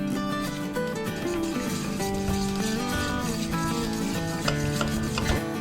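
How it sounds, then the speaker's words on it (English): A whisk scrapes and rubs continuously through brownie batter mixed with hot melted butter, a steady close rasping sound with no talking over it. "Now we'll whisk this until it's smooth"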